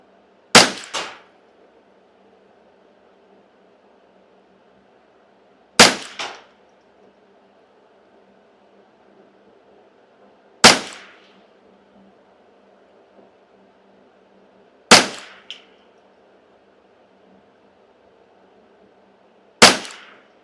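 Five evenly spaced shots from a custom Ruger 10/22 firing Pistol Match Special ammunition, each a sharp crack followed by a ringing clang off a steel target, several seconds apart over a low steady background hum.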